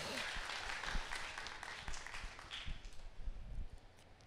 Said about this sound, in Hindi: ताली बजाएं परमेश्वर के लिए।